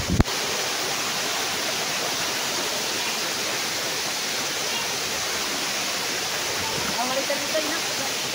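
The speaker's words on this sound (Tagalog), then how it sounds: "Tila bagay para kaming nasa langit nung nasilayan namin ang kagandahan ng Gaas Falls." Gaas Falls in the Philippines pours in a steady, loud, broadband rush of falling water that continues without a break, with a short burst of louder splashing at the start.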